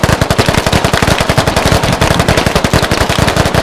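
Rapid automatic gunfire in the military shooter game Squad, a dense, loud, unbroken stream of shots fired in quick rhythmic succession for several seconds.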